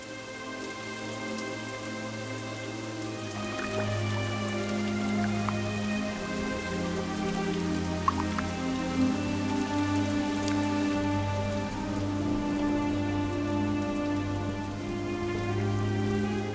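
Heavy rain pours in a rainforest as a dense, steady wash of drops on leaves and surfaces, broad and constant with a low humming drone underneath and no voices.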